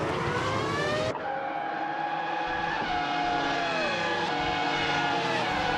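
Race cars in a racing video game roar past one another, engines whining and shifting pitch continuously as they overtake, loud and close throughout with no pauses.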